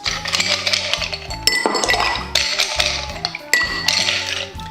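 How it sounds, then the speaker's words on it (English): Ice cubes clink and rattle against a glass mixing vessel as a Manhattan cocktail is stirred, a bright, steady clatter in repeated bursts, close and fairly loud, with no one talking. "Then we're gonna give it a stir with some ice."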